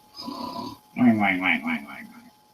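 A voice imitates snoring twice, a drawn-out rumbling inhale followed by a longer wavering snore, close and fairly loud.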